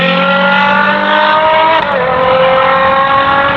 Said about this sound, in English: they stuck a naturally aspirated engine in here